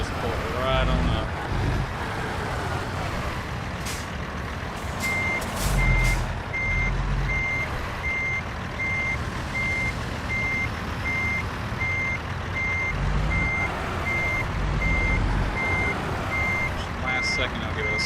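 A truck in American Truck Simulator reverses toward a loading dock, its high reversing beeper pulsing evenly over a continuous low engine rumble, with someone talking at times.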